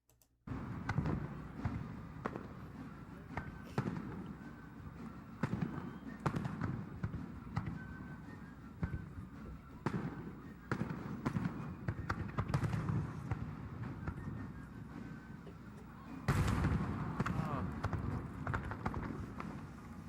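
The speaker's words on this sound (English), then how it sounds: "The fireworks being fired from just slightly northeast of the War Memorial." Fireworks fired over Lake Michigan near the War Memorial during an America 250 salute, heard as repeated booming bursts and crackles at a steady pace, with a heavier cluster of explosions toward the end.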